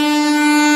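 A train horn blasts loud and steady at close range in dense morning fog, one sustained tone with no voices.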